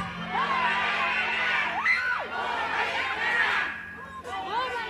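A loud crowd shouts and cheers continuously, with high excited voices whooping and calling out over a dense babble.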